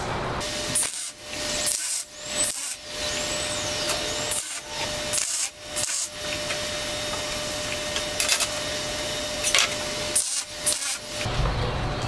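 Steel being tack welded for the frame of a large plant stand: bursts of crackling, hissing arc noise, some short and some sustained, separated by brief silent gaps, close by with no speech.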